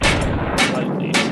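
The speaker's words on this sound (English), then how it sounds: "Lightly tap it." Pin being lightly tapped out of a CTW airsoft gun with a tool, three sharp metallic knocks about half a second apart, close and fairly loud.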